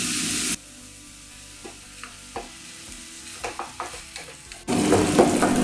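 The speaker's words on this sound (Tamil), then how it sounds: "அவ்வளோதான், இது நல்லா வதங்கட்டும்." Tomatoes with turmeric sautéing in a pan for rasam, loud bursts of sizzling at the start and end with a quieter stretch of spatula taps and scrapes in between, close up and wordless.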